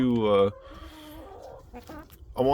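Roosters kept in a backyard coop crow at night. One loud, close, harmonic crow ends abruptly, a quieter stretch of clucking and bird calls follows, and another crow begins just at the end.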